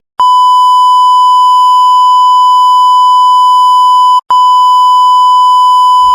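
A loud, pure electronic censor beep holds steady for about four seconds, breaks for an instant, then resumes for nearly two more seconds.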